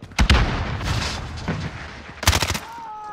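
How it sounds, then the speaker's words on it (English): A stun grenade goes off in a video game firefight. Sharp, loud blasts land in two clusters, the first near the start and the second near the end, with gunfire-like cracks and a fading rumble in between. "Stun grenade out."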